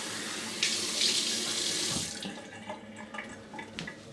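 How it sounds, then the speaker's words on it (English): Tap water runs steadily into a sink as a razor is rinsed mid-shave, a loud broadband gush for the first two seconds that then breaks into lighter splashes and drips. "Let's have a rinse."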